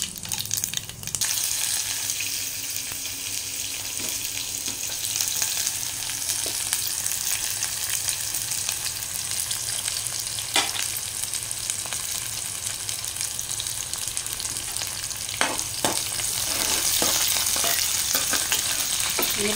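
Mustard seeds and cumin fry in hot oil for a bitter gourd curry, giving a steady close sizzle with scattered crackles and pops and occasional sharp spoon clicks.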